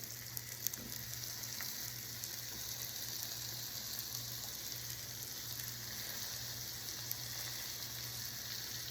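Hamburger patties searing in a hot pan for Salisbury steak, a steady, fairly quiet sizzle that holds even throughout with a couple of faint ticks, and no voices.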